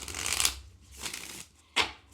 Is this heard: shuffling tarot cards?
yes